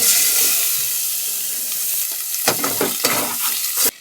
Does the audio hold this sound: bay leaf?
yes